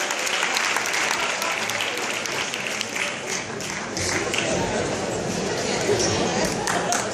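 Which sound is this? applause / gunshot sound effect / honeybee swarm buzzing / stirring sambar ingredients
applause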